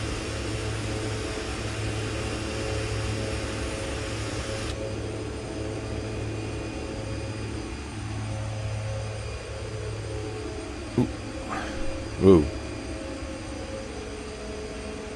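A DHC-6 Twin Otter's turboprop engines drone steadily in flight in the X-Plane 11 flight simulator, a constant mid-level hum with a faint whine; near the end a few soft clicks sound and someone briefly exclaims.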